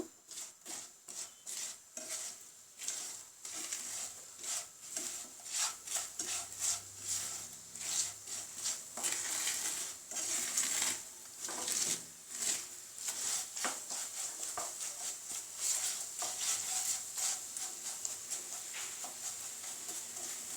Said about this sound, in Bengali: এখন আর একটু নাড়াচাড়া করে নিব।